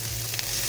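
Masala with beaten yogurt sizzling in a pan for a Bengali egg and brinjal curry, a very short burst of steady frying hiss with a faint stir, no talk.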